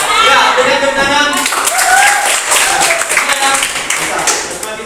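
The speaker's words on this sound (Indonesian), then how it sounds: "Ya, berikan tepuk tangan." A class of students claps hands in a classroom, a burst of bright clapping under and after a teacher's voice, close and lively, continuing for a few seconds.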